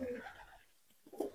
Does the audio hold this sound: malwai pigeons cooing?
yes